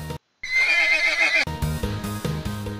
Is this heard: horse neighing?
yes